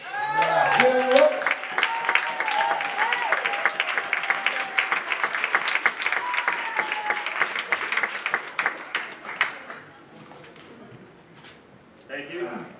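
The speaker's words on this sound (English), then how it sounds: "A big round of applause for 47-year-old Jim Roach." An audience at Fundafest 2012 applauds storyteller Jim Roach with a full, sustained round of clapping. A speaking voice carries over it, and the applause thins out after about ten seconds, leaving a few scattered claps.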